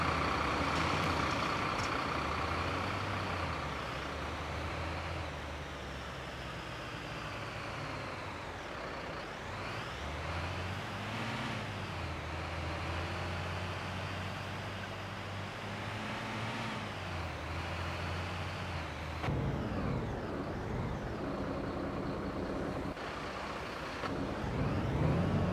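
A Vienna fire brigade truck drives back to its station, its diesel engine droning steadily with gear changes and rising and falling revs, heard from inside the cab at a moderate level.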